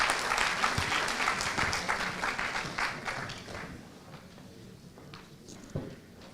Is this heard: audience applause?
yes